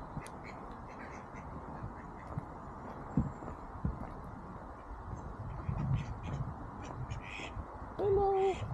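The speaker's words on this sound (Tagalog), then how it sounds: "Oh, may mga wild duck," Wild ducks quack at a lake in France, short calls scattered over a quiet outdoor background, with a clearer nearby quack near the end.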